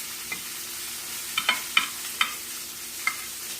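Butter sizzling in a hot pan with filet mignon, a steady frying hiss broken by several crisp pops and stirring scrapes, close and moderately loud, without speech.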